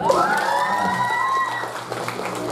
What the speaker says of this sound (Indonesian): Tepuk tangan atuh.